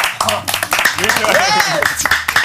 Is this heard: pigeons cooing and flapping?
no